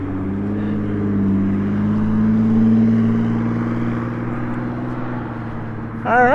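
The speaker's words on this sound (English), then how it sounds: "And yes, we do have road noise." Steady road traffic drones on outdoors beside a military vehicle museum, a low continuous engine rumble that swells and fades as vehicles pass, ending with a brief louder surge.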